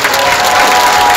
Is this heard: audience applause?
yes